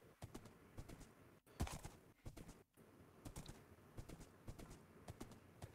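Horse hooves clip-clopping while riding in Minecraft All The Mods 7, a quick irregular run of sharp hoof clicks, fairly faint, mixed with light keyboard-like tapping and no talk.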